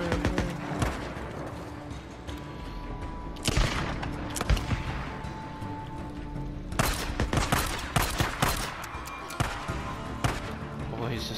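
Gunfire in Days Gone, quick bursts of sharp shots coming in clusters over about eleven seconds, loud and close, with a few heavier impacts among them.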